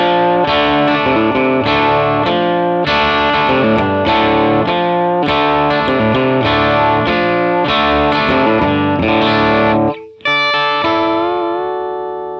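A distorted electric guitar riff plays through a Matchless Clubman amp capture, chords chugging in a steady rhythm, loud and close, then ending on a ringing chord that slowly fades.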